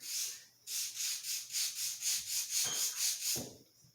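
Hand sanding with sandpaper on a woodworking build: steady back-and-forth rubbing strokes, about a dozen in a regular rhythm, close and fairly loud, with no talking.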